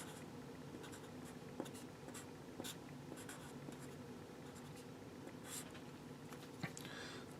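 A pen scratching steadily across paper or a writing surface while an equation is written out, faint and continuous with small taps and strokes over a low background hum.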